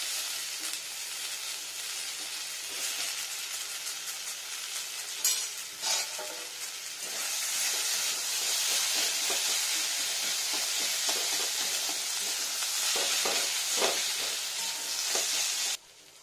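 Greens and boiled potato stuffing with green chilli fry in a pan for a pointed gourd filling, giving a steady hiss of sizzling with scraping stirs and a few clinks of the utensil. The frying grows louder partway through.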